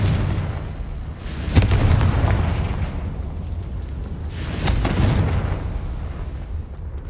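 The Confringo blasting spell firing in Hogwarts Legacy, two booming explosions a few seconds apart, each a sharp crack swelling into a rumbling roar over a continuous loud game background.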